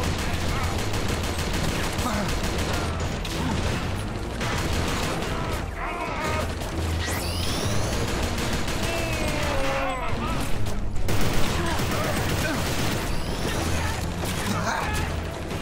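Enemy gunfire in the shooter video game Inversion during a co-op run, dense sustained bursts of shots and mechanical clatter filling the whole stretch, with loud explosive hits and players talking over it.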